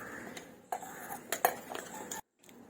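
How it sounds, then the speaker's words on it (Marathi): A few sharp metallic clinks and scrapes of a spoon against a mixer grinder jar as fish curry ingredients are added, close by, then a brief silence. "सर्व मी साहित्य हे मिक्सरच्या भांड्यात घालून घेत आहे"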